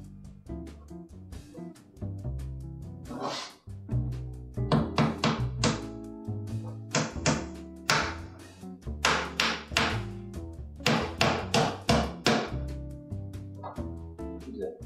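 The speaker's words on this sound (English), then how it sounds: "Nail set, have it in place." An inch-and-a-half finishing nail is driven with a hammer and nail set during bar restoration work: a series of sharp, close metallic taps and thunks in irregular bursts, with no talking.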